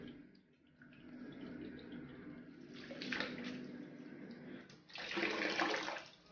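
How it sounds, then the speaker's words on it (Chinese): Chicken feet, chicken legs and duck wings are rinsed under running water, a soft, steady splashing flow that swells louder in two short surges, close by and with no talking. "解冻好，再用清水冲洗干净。"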